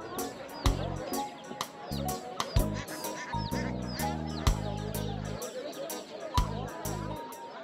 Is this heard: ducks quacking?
yes